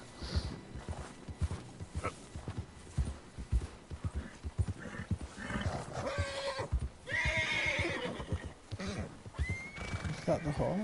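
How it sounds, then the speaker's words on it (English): Horse in Red Dead Redemption 2 clip-clopping with hooves and letting out a neigh or whinny, the game sounds steady and fairly close, with a voice talking over parts of it. "Is that the horse?"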